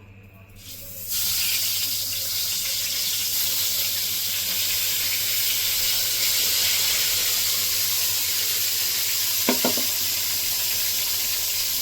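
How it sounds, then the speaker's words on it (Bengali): Eggplant pieces fry in hot oil for Bengali doi begun, a loud continuous sizzle that starts abruptly after a second and holds steady, with a brief clatter of a utensil near the end. "আর একবার ভেজে নিয়েছি, তুলে নেব।"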